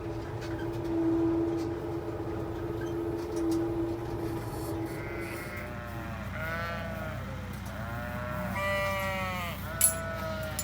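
Sheep in a flock at lambing time on a ranch bleat loudly and repeatedly, in wavering overlapping calls over a low steady hum and scattered clatter. No voices are heard.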